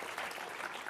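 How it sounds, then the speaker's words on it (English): An audience at a Bugsy Malone Q&A applauds a former cast member, a brief, soft and distant patter of steady clapping. "Round of applause for Graham Fletcher"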